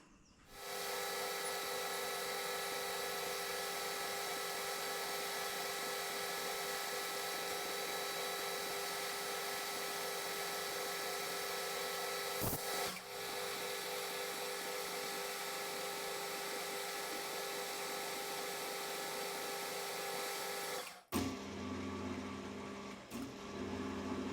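A boring and facing head on a machine cuts a 1.5 mm wide threaded groove in a metal part, giving a steady, continuous whirring and cutting noise for about twenty seconds before it abruptly stops.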